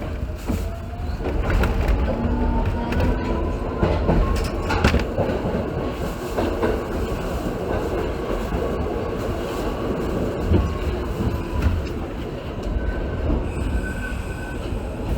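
A New York subway local train runs toward Nevins St, rumbling and rattling over the track with intermittent wheel squeals and clanks, loud and steady throughout.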